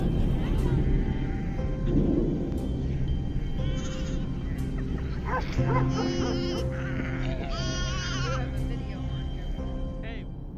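A mountain goat gives several wavering bleats over a constant low rumble, with voices talking in the background.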